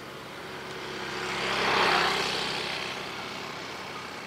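DJI Ryze Tello drone buzzing through the air outdoors, a steady whine that swells as it passes nearest and then fades, heard over wind.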